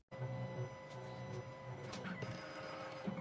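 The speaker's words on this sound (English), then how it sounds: "The machine is decoding the lateral side." A 2M2 Magic Tank 2 Pro key machine decoding the lateral side of an original key, giving a steady faint mechanical hum and whir with soft shifting clicks, heard alone.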